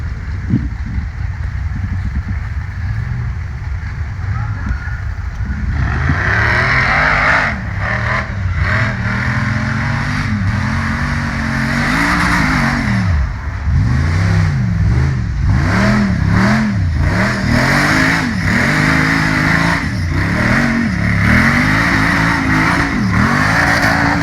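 An off-road race vehicle's engine revs hard on a hill climb run at Rush Offroad, loud and close, climbing and falling through repeated rapid surges over about twenty seconds.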